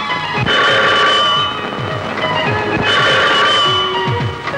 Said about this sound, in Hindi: चल जाकर फोन सुना